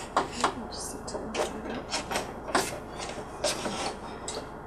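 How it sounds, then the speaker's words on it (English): An embroidery hoop is set into an embroidery machine and locked in place, giving a few sharp plastic clicks and knocks in close succession, with brief rattling between them and no talk. "we're going to place the hoop into our machine"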